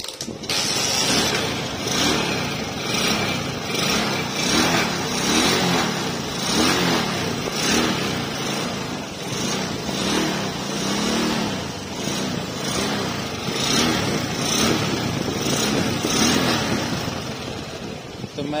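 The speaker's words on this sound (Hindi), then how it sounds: "तो चलिए हम इसे फिर से स्टार्ट करके आपको दिखाते हैं।" TVS Flame motorcycle with a swapped carburetor starts up and keeps running, a close, loud, slightly uneven idle with a pulsing beat and occasional revs throughout.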